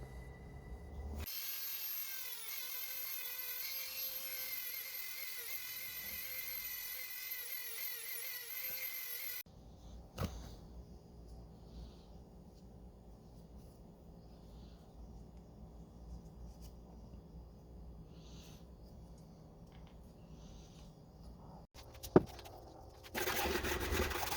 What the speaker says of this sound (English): now we're going to use the Dremel and take these down to get to our final shape